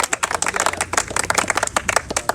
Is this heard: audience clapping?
yes